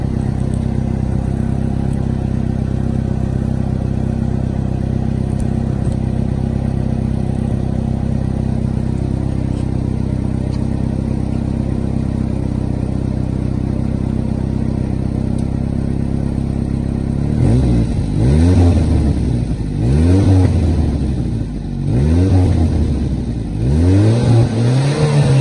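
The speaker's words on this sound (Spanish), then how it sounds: "Y le pego un par de acelerones." A Saab 900 Turbo 8-valve engine idles steadily, then is revved hard several times in quick bursts, each roar rising and falling back, close and loud.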